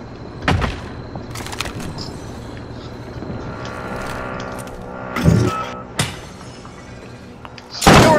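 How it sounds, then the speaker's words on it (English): Glass shatters during a multiplayer shooter game. A few sharp breaking and impact bursts stand out over quiet game ambience, with the loudest crash at the very end. "You're breaking the glass."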